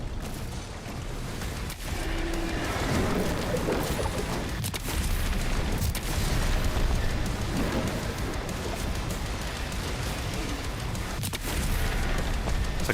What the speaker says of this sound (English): It's like a shotgun.